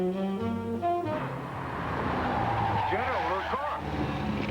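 A radio-drama car effect follows a short musical note: an engine roars up close and its tires squeal in wavering bursts toward the end.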